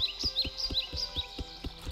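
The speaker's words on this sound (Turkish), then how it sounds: "Kuş seslerine bak." Birdsong from the video game Tools Up! comes as a string of short, high chirps repeating at a steady pace. Soft, regular low thumps run underneath.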